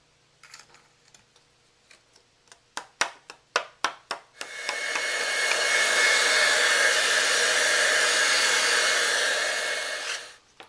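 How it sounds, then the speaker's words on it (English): A heat tool roars on to melt clear embossing powder on a card, a loud steady blowing hiss held for about six seconds after a series of sharp clicks and taps. "emboss it with my heat tool"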